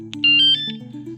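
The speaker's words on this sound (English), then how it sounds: "alarm system, completely wireless. It's not wired into the bike itself." A loud wireless alarm on a Honda Goldwing motorcycle gives a short series of shrill, warbling chirps, close and piercing, over a low hum.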